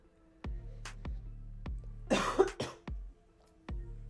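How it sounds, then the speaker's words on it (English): Several sharp coughs at a steady pace, with a harsher burst of throat-clearing hacks in the middle, close and fairly loud. "Oh, there's some coughing."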